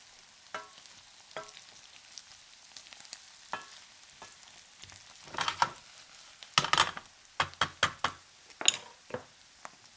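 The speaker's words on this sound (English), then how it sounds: "Stir that up, get everything nice and hot" Corned beef hash frying and being stirred in a pan, soft sizzle under sparse scraping and clattering stir strokes that grow busier and louder in the second half.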